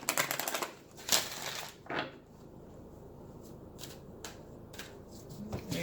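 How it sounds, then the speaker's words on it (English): Romance Angels oracle cards riffle in a quick burst of shuffling at first, followed by scattered soft taps and slides of cards being handled, close and quiet. "So I'm going to do a quick shuffle of the Romance Angels as well."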